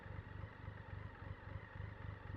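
Harley-Davidson motorcycles rumble faintly in the distance with a low, evenly pulsing engine throb that holds steady throughout the brief stretch, with no voices over it.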